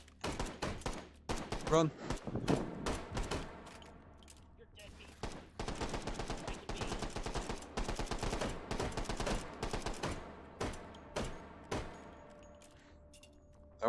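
Rapid pistol gunfire in a video game, with dense volleys of sharp, loud shots crackling over several seconds, briefly pausing, then resuming in quick bursts while a voice shouts over it.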